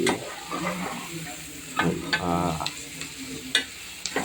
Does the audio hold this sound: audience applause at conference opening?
no